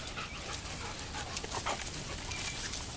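A small dog pants and whimpers close by in a steady, breathy stream with brief higher yelps, recorded outdoors during off-leash recall training with no voices.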